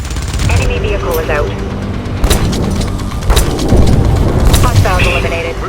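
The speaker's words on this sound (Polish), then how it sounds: "Strzał z działka" Autocannon bursts in the video game Splinter Cell Blacklist, loud booming rounds fired in quick succession amid a busy mix of engine noise and speech.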